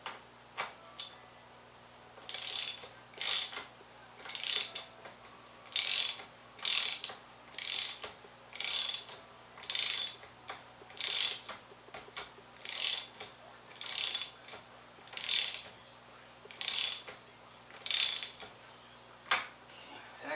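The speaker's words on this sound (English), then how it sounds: "we're going to have to get the socket on there." A ratchet with a socket on a 1996 Yamaha YZF600 fork clicks in a long series of short, evenly spaced ratcheting strokes, close and crisp over a faint background hum.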